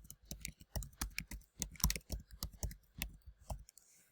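A book title is typed on a computer keyboard in a quick, irregular run of close, faint key clicks, with no talking over it.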